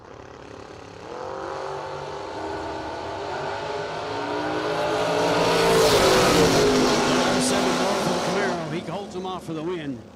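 A Vega Wagon and a Camaro launch down a drag strip at a memorial race, their engines roaring loud and close and swelling to a peak as they pull away. Announcer commentary runs over the roar.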